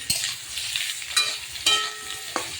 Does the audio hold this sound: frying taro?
yes